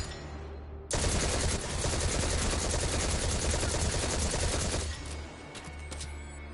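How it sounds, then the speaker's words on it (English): Rapid automatic gunfire in the Destiny 2 video game, dense and loud, starting abruptly and continuing for about four seconds before dropping to a quieter background of game noise. "So I just start shooting."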